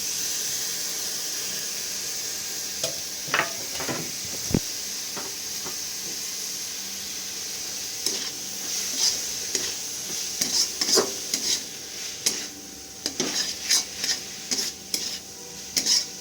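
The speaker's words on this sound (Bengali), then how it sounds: "টমেটোটা না গলা অবধি ভালো করে এগুলোকে নেড়ে মিক্স করে নিতে হবে" Chopped tomatoes with spices are stirred in a pan for a spicy gizzard dish, a continuous sizzle under repeated scraping and clinking of a spatula that becomes busier and more rhythmic toward the end, no voices.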